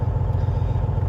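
A semi truck hauling a stepdeck trailer idles at slightly raised revs, making a steady, close, low diesel rumble with no talking.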